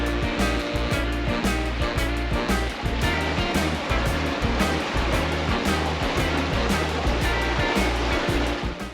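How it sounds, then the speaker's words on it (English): Kanarra Falls pours through a Utah slot canyon in icy, snowy conditions, a loud, continuous close-up rush of falling water that fills the whole scene without pause. "We're getting really close to the third waterfall."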